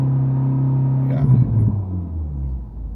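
A Honda FL5 with a Stage 2 tune idles on launch control, its engine held at 4,000 RPM. A steady, loud mechanical drone carries a brief rougher surge midway, then settles into a lower rumble.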